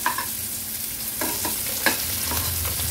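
Spiny gourd (kantola) frying in a little oil over a medium flame, a steady soft sizzle broken by several scraping stirs and tosses in the pan, with no voices.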